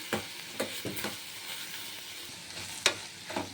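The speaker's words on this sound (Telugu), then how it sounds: "వేగినాక మనం కట్ చేసుకున్నవన్నీ వేసేసుకుందాం. ఇవి కూడా బాగా వేపుకోవాలి." Chopped vegetables frying in a pan for paddu, also called panganalu, with a soft continuous sizzle broken by repeated scraping and stirring strokes of a spatula, close and moderately loud.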